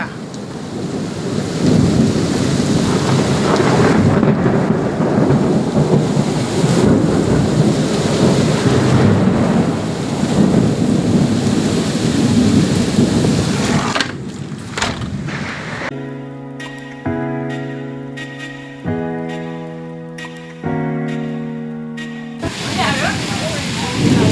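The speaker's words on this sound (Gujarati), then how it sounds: "જોરદાર વરસાદની તબાહી ચાલુ છે વાવાઝોડા સાથે" Heavy rain with lightning and thunder pours down in Mavdi, Rajkot, a loud dense roar with deep rumbles for most of the stretch. The storm then gives way to steady tonal, music-like sound near the end.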